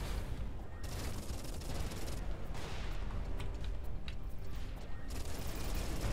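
Rockets fire from a ship in the space combat game Everspace 2, a busy, dense stream of launches and bursts with short crackling rattles, loud and continuous throughout without a pause.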